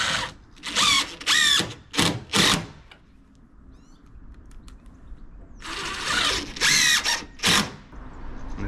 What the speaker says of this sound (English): on these external corners I'm just going to put two screws in the end just to strengthen the corners up